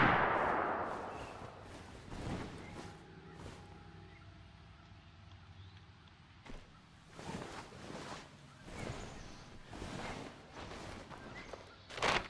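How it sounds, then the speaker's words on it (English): Scattered gunshots from the State of Decay video game, heard as sharp isolated bangs spread through the clip at moderate distance, mixed with some lighter thumps and a faint steady tone in the background. "Gunshots."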